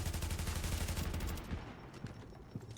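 Rapid bursts of automatic fire from an AUG A3P rifle in The Division, a dense fusillade for about a second and a half, then a few sparser single shots fading out.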